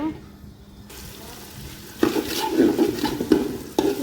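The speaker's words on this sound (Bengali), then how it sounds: "চাল ডাল আলু একসাথে মিশিয়ে ধুয়ে নিয়েছি, যে এখন কষাচ্ছি" Rice, lentils and potatoes are stir-fried together in a pot for khichuri, with quiet scraping at first, then louder, close stirring scrapes and soft sizzling over the last two seconds.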